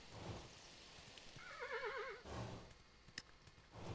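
A tired horse in the video game Kingdom gives one clear, wavering whinny midway through, set against a steady rain-like hiss with hoof clops and a sharp knock near the end.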